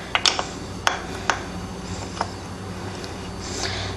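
A wrench works loose a 10mm nut on the chain adjuster of a 2002 Yamaha YZ125 dirt bike. A few sharp metallic clicks and ratcheting ticks sound close by, spaced out over a quiet background.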